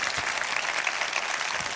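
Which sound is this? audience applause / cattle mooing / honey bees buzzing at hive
audience applause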